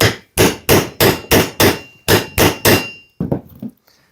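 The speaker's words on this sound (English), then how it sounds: "A few more taps and then we'll lever it out." Sharp metal hammer taps ring out one after another, driving a cat's paw under a nail, about nine evenly spaced blows followed by a couple of lighter clinks.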